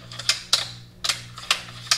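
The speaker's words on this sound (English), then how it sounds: "Short bolt throw." Short bolt throw being cycled on a SIG .308 bolt-action rifle, a series of crisp metallic clicks and clacks in quick irregular succession, close and fairly quiet over a low steady hum.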